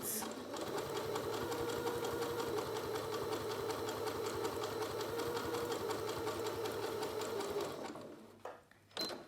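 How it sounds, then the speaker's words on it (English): Sewing machine zigzag stitching along the top edge of a fabric face mask, a fast, even mechanical chatter running close for about eight seconds before it stops with a few faint clicks. "I'm going to now sew on the top of the fabric"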